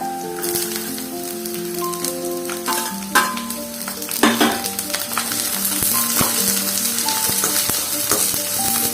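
Bell peppers sizzle steadily in a hot frying pan, a dense crackling hiss with a few sharp clatters of stirring, while soft background music plays.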